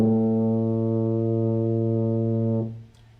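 A tuba sounds a single sustained A fingered on the second valve, a steady rich brass tone held for about two and a half seconds before cutting off, played alone and close.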